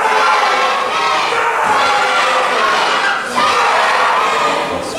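Pro wrestling crowd shouting and riled up, a loud continuous roar of many voices with chants and yells swelling, dipping briefly near the middle and then surging back.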